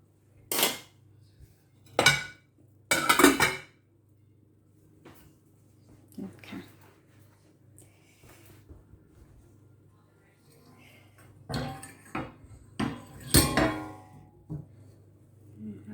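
Plates and cutlery clink sharply as salmon is served onto a dish, with several loud bursts at the start and end and quieter rattles between, set over a low steady room hum.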